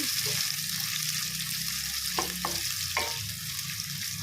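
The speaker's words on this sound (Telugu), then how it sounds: "ఉల్లిగడ్డ వేసుకొని నార్మల్గా వేయించుకోవాలి" Onions and green chillies frying in a pan for a paneer matar curry, a steady close sizzle broken by a few soft stirring knocks.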